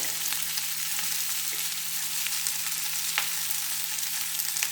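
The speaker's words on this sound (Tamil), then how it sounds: "கேப்சிகம் வறுத்துடணும்." Capsicum sizzling steadily in a hot pan, a continuous close frying hiss with faint stirring clicks and no talking.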